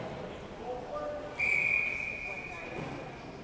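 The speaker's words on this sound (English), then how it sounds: "Not even many whistles since, but there's one on the offside." Referee's whistle for an offside at a U19 AA girls' ice hockey game in a rink, one sharp, fairly loud blast lasting about a second over crowd and arena murmur.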